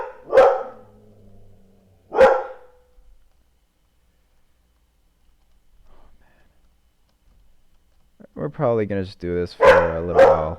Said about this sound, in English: If you hear a dog barking, don't mind that. I think that's my dog.